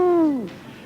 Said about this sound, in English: And the owls hooted in the dark